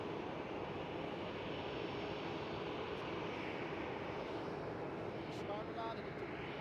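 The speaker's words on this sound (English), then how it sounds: "in the background, the KLM 737 taking off" A KLM Boeing 737 airliner takes off at Schiphol Amsterdam, its engines a broad, steady distant roar throughout, with some talk over it.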